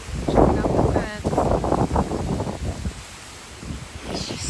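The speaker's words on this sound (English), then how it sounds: "It's just so windy. I can't believe how windy it is." Strong gusts from Hurricane Beryl buffet the microphone and rustle the foliage in loud rumbling bursts that ease toward the end, while people talk nearby.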